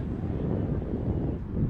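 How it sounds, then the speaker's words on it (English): Gusting wind at an outdoor soccer match in Buffalo, New York, roaring steadily against the microphone as a dense, low, continuous rumble with no break. "Wind picking back up once again, gusts up to around 20 miles an hour here in Buffalo, New York"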